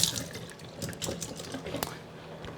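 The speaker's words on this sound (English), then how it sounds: "just a quick rinse for my shishitos" Tap water runs over shishito peppers for a quick rinse in a kitchen sink, a steady close splashing stream that lasts the whole moment.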